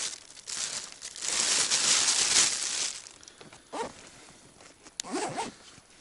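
A plastic bag crinkles and rustles up close, a long crumpling stretch followed by a few shorter rustles and a sharp snap.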